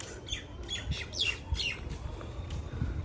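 Pigeons call in a series of short, scratchy squawks and chirps nearby over a soft low background, with no talking.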